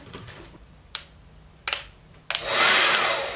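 A few sharp clicks and taps, then a loud, steady whooshing roar of a blow dryer switches on and keeps running to the end.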